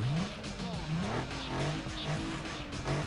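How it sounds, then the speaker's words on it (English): A car engine revving in Need for Speed Underground 2, rising and falling in repeated pulls, loud and close, with faint tire noise and no talk. "rev the engine, see what it sounds like"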